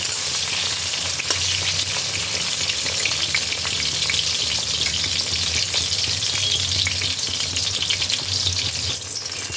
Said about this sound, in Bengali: এবার বেগুনগুলোকে ভালোভাবে ভেজে নিতে হবে